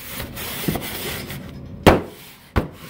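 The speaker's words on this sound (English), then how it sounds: "Just my sheetrock keyhole saw. I carve it out like that." A sheetrock keyhole saw carves out drywall in an old house, giving soft scraping rubs followed by two sharp, close cutting strokes near the end.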